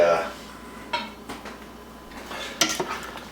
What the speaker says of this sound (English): we'll stir the stew up